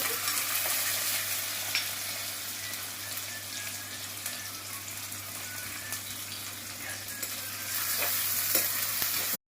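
Mustard seeds, fenugreek and green chilli frying in hot oil for a Kerala fish curry: a steady, dense hiss and crackle that carries on without a break and swells slightly toward the end, with no voices.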